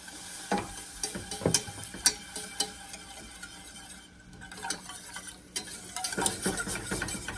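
Milk stirred slowly into browned butter in a pan for a white sauce, giving irregular scraping, clinking and soft sizzling strokes at close range, with a short quieter patch in the middle.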